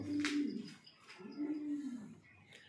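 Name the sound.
fancy pigeons cooing in a loft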